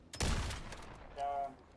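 A gun firing with an explosive blast in the Helldivers 2 shooter game: one sharp, loud burst near the start that decays into a rumble, then a short voice-like tone.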